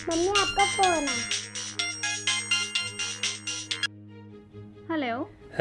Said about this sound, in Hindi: मम्मी आपका फोन है।